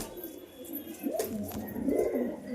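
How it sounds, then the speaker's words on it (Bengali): Pigeons released into a farm enclosure give soft, low, rolling coos in two or three close bursts over faint background hiss. "এ হচ্ছে কবুতর তো"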